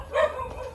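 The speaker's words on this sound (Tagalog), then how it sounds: "Galit yung aso." A single short bark from an agitated dog, near and fairly loud, ringing out alone.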